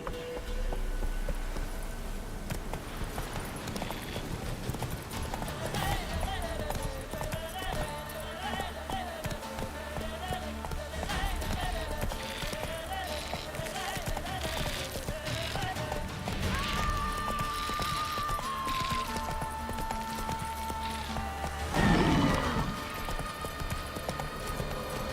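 Roach the horse gallops in The Witcher 3, a steady clip-clop of hooves running continuously under game music, with a brief whinny-like burst near the end.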